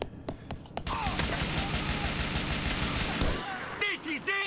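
A favorite weapon in Grand Theft Auto IV unloads a sustained, loud automatic burst for about three seconds after a few single shots, then cuts off as a voice speaks.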